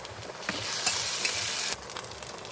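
Onion frying in a pan, turning reddish-brown: a steady bright sizzle with soft stirring scrapes, fairly close, dropping to a quieter hiss near the end.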